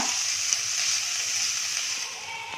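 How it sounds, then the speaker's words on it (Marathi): Onion sautéing in a pan over a low gas flame for sweet corn soup, giving a steady, even sizzle and hiss throughout with no talking. "कांदा आपण गुलाबीसर रंगावर परतून घेऊया. गॅसची फ्लेम मंद करूया."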